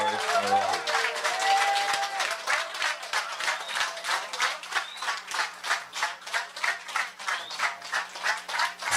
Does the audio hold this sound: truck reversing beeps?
no